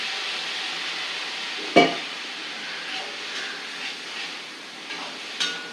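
Grated carrot with turmeric and chili powder sizzles in a hot pan for a carrot coconut curry, making a steady frying hiss broken by a sharp scrape and a few soft stirring clicks.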